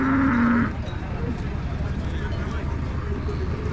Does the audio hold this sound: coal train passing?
no